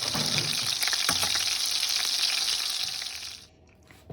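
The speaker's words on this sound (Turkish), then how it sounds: "Şöyle bir tanecik köfte kızartıyorum" Steady, loud sizzling and crackling of a single meatball frying in a hot pan, with small pops, fading out near the end.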